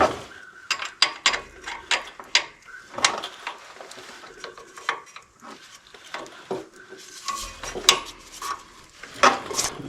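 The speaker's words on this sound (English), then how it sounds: "So let's get an Allen wrench on that." An Allen wrench loosens the hydraulic oil drain plug on a Gravely mower at its 500-hour oil change, giving a run of close, sharp metallic clicks and clanks in irregular bursts, with no talking.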